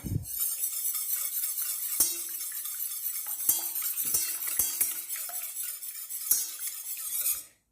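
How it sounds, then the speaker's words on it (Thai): A hand whisk beats eggs in a bowl, a close, steady, fast swishing and rattling of wire against the bowl. Sharp clinks against the rim break in at irregular points, and the beating stops abruptly at the end. "เราจะตีไข่ด้วยตะกร้อมือไปก่อนค่ะ"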